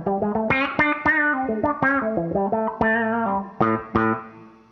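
Electric guitar played through a Wampler Terraform multi-modulation pedal, a quick melodic run of plucked notes and chords with a wavering, swirling modulated tone and slight distortion, loud and close with no talking.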